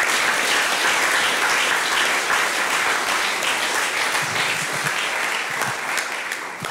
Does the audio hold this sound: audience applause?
yes